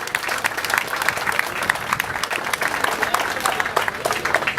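Crowd applause at a political rally opening meeting, a dense, continuous wash of many people clapping, fairly close and loud, with faint voices underneath.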